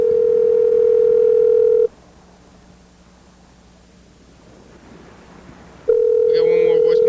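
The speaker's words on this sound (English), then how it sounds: "I'm calling Dan" Dial tone heard at the start and again near the end of a phone call placed to a friend, with a quiet stretch between and faint higher tones toward the close, probably ringing or dialing.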